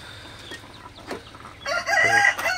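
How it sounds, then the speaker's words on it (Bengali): Broiler chickens weighing about four kilograms cluck nearby, with scattered soft clucks that build into a louder burst of squawking toward the end. "আরেকটা মুরগি তুললাম আমি।"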